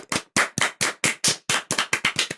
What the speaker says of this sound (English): audience, please clap for Kenny.